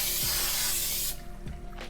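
A one-dollar can of cooking spray hisses onto a hot pan in a dense burst for about a second, followed by a few softer clicks and sputters, with no voices.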